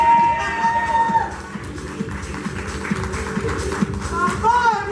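A crowd applauds with scattered claps and cheers under a voice and music, the clapping fairly close and continuous for several seconds.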